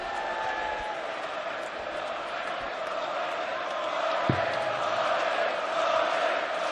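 A large darts crowd at a UK Open final roars and chants continuously and boisterously through the closing stages of the match, a dense steady wall of voices that swells slightly, with a commentator talking over it.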